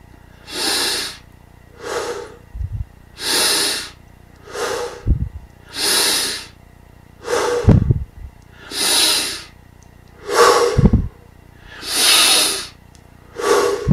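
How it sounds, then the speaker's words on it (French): Deep, slow breaths during a guided meditation, drawn in through the nose and let out through the mouth, close and loud: about nine rhythmic airy inhales and exhales, some ending in short nasal snorts, with no speech. "on prend une douzaine de respirations profondes. Inspire par le nez, expire par la bouche"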